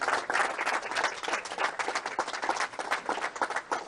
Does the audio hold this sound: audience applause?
yes